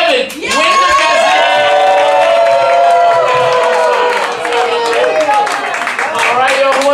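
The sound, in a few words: audience clapping for battle rappers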